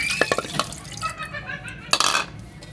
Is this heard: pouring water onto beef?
yes